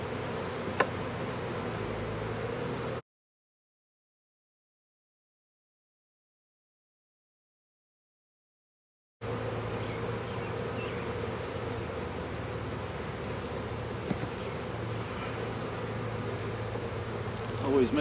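Honey bees buzzing around an opened two-story nuc hive, a steady faint drone that cuts out briefly and then resumes.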